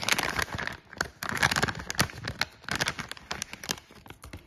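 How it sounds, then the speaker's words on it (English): Two small screws are worked out of a thin plastic bag, producing close, irregular bursts of crisp crinkling and rustling with brief gaps between handlings. "Let's get the two screws out of the plastic bag."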